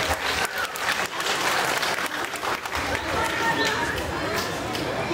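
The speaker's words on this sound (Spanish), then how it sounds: "por el cual les pido un fuerte aplauso" Families at a preschool graduation ceremony in Presidio de los Reyes clap loudly and continuously, a broad wash of applause that surges and dips slightly, with scattered chatter and voices underneath.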